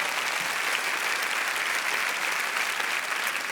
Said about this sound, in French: Vous pouvez les applaudir très très fort.